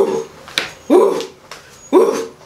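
A voice imitates a dog barking: three short, yelping woofs spaced about a second apart, close and fairly loud.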